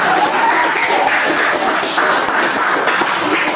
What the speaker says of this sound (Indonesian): Mari kita tepuk tangan, kasih tepuk tangan.